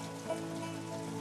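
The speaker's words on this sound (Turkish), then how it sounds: "Yağmur yavaşladı." Rain falls steadily, a soft even hiss of drops on surfaces heard close and fairly quiet, with faint low tonal hum underneath and no voices.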